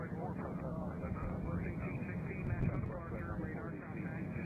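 A CRJ regional jet rumbles at Nashville International Airport, a steady broad engine roar held throughout at moderate distance, with a voice talking over it.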